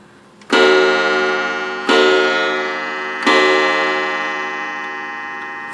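A Commodore 35-day wall clock striking the hour, three loud ringing gong strikes spaced about one and a half seconds apart, each decaying slowly into the next, close and alone without talk.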